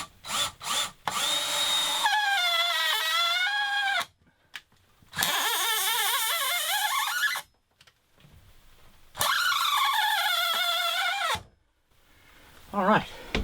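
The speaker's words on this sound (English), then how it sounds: "I'm just going to take my drill and get this thing up here" A power drill drives screws into a gable truss on a tiny house build, three long whining bursts of several seconds each with short knocks and pauses between, loud and close.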